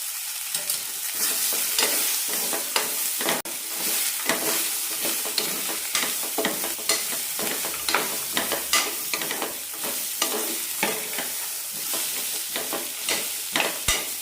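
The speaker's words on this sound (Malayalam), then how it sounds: "ഒരു മിനിറ്റ് നന്നായി ഒന്ന് വഴറ്റി കൊടുക്കണം" Tomato, thoor peas and a small potato being sautéed in a pan, with steady sizzling under repeated scraping strokes of a spoon, close and continuous with no talk.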